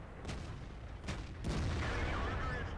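Tank cannon shots from a World of Tanks-style video game featuring the T57 heavy tank: three sharp, booming blasts in quick succession over a constant rumbling battle background.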